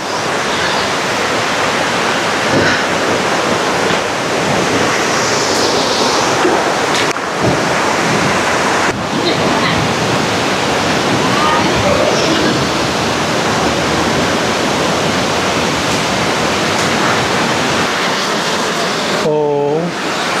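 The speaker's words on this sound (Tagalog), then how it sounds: "Ang lakas ng agos ng tubig." A loud, steady roar of rushing water from the 285-foot Hulugan Falls in Laguna, Philippines, fills the whole stretch, dense and unbroken, with a short tonal chirp near the end.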